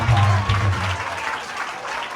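Applause at a school student award ceremony, a brief burst of clapping from a crowd, loud at first and then fading, with little talk.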